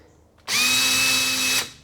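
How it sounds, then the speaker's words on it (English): A power drill spins up at about 1200 RPM with an RPM indicator attached, giving one steady, close, high-pitched whine that lasts about a second and then cuts off. No one speaks. "testing this drill, it spins at"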